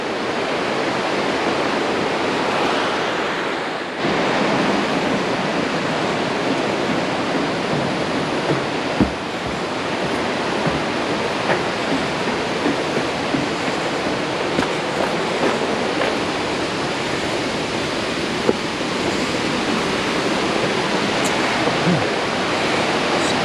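Bald River Falls near Tellico Plains, Tennessee, a loud, steady roar of water pouring over rock that fills the whole stretch without letting up, broken only by a brief dip early on and a few small knocks.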